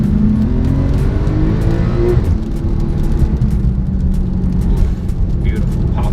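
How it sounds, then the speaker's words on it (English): A 2015 Porsche 911 Turbo S drives on a wet road, its engine droning loudly inside the cabin while scattered short exhaust pops crackle over the steady noise. "Beautiful pop noises on this thing"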